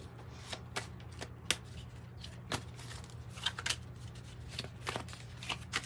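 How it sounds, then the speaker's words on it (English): Tarot cards being shuffled up close: a run of crisp, irregular riffles and sharp snaps over several seconds, alone over a faint steady low hum. "I promise this shuffling part will be done"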